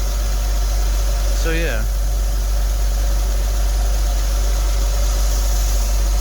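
A 2003 Porsche Boxster that sat unused for over four years idles steadily after a couple of minutes of running, a constant close engine hum with a brief spoken word early on.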